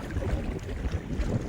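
Strong wind buffets a small fishing boat at sea, a steady, close roar of gusts and rushing air against the microphone with no pauses, filling the whole moment.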